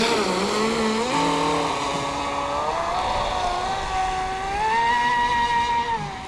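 Pursuit RC boat on a 6s battery at quarter throttle, a high-pitched motor whine rising and falling in pitch, loud and steady throughout with no talk.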